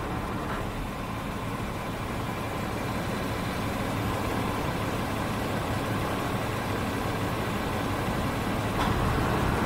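A 2016 Honda Pilot engine idles with a steady, low, even hum that runs unbroken throughout, close and alone with no talking.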